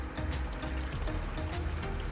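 Water poured out of a container in the survival video game Scum, a steady splashing stream running continuously for about two seconds at moderate level, with no talking.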